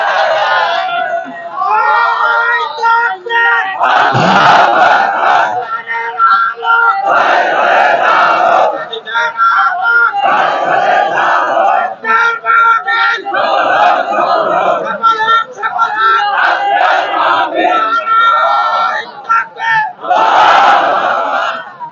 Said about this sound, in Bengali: সবাই একটু তাকবীর দেন তো দেখি।